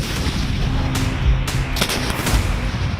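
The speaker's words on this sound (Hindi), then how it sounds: "इसमें एक बार में 40 रॉकेट लोड होते हैं जो 20 सेकंड में फायर किए जा सकते हैं" Indian Army multiple rocket launcher firing at an artillery range in Devlali, Nashik: a loud, continuous roaring rumble with repeated sharp blasts and cracks layered over it, heavy and close.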